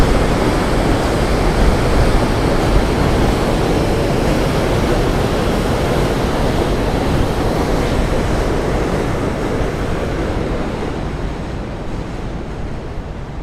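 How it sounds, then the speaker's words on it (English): A subway train rumbles overhead on the Williamsburg Bridge above East River Park in New York City, a dense, continuous roar that stays loud and steady throughout before thinning slightly at the end. "You can actually hear a subway train going above us right now."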